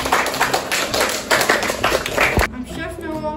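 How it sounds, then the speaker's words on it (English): A sixth-grade classroom bursts into a round of applause, dense quick clapping from many hands for about two and a half seconds that stops abruptly, with a voice talking at the end. "Hey, give the man a round of applause."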